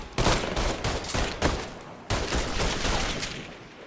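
Rapid bursts of automatic gunfire from the Mafia III video game rattle loud and close, cutting off once briefly before resuming, with no voices.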